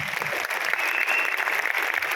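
Audience applause for a mentor, Mr. Rizwan Khan, at a Vestige business gathering, steady dense clapping from a sizable crowd that holds evenly throughout.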